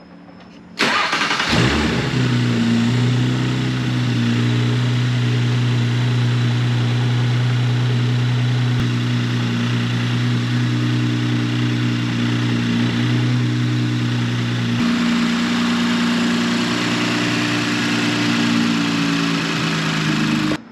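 An Audi B9 S4 with an Integrated Engineering intake and aftermarket exhaust cranks and fires with a sharp rev flare, then settles into a steady, loud, throaty idle that holds for about twenty seconds.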